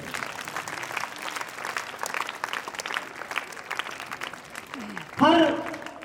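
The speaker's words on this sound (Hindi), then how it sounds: "तब तक आप तालियां बजाते रहिए।" Audience applause at an annual school prize distribution and cultural ceremony, a steady broadband patter of many hands lasting several seconds, then a brief burst of loud vocal sound near the end.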